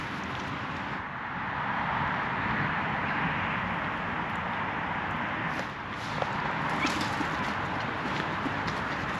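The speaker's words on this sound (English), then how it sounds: "Horses. Horses." Horses' hooves clip-clop at a distance in a field over a steady outdoor background, with occasional birdsong.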